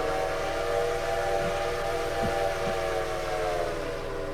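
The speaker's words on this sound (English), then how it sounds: "Alright, stop the whistle, stop the whistle." A train whistle blows in one long, steady, multi-tone blast over low rumbling, loud and sustained for the whole stretch with a few faint knocks underneath.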